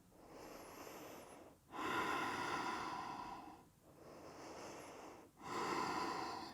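Deep, audible breaths during a sweaty power yoga session come in slow cycles of long inhales and exhales, close and fairly faint, with no talking.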